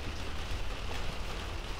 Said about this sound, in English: Well, yeah, it's raining.